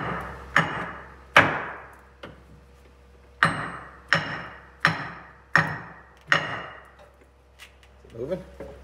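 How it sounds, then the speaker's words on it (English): Sledgehammer blows strike a part on a vintage bus wheel with a leaking wheel seal, about seven loud metallic impacts at irregular spacing, each ringing briefly, followed by faint rustling and handling noise. "Hit it with the sledgehammer a few times and it'll back come off."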